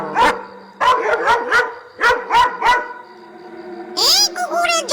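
A dog in an animated ghost story barks loudly and close in quick bursts of two to four barks, followed by a whining, yelping call at the end.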